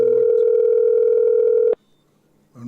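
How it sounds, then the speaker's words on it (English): An outgoing telephone call rings back with a long, steady electronic tone that stops abruptly, followed by near silence and then another tone beginning. "His phone is ringing"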